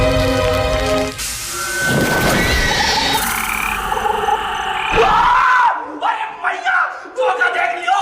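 Frog croaking in a Hindi TV serial, a few loud croaks near the end over busy dramatic music and crowd-like effects.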